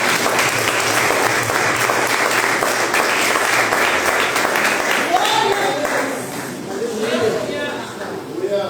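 A church congregation applauds steadily throughout, a dense wash of clapping filling the room, with voices speaking over it toward the end.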